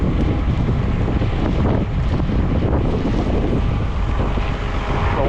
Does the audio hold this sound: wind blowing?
yes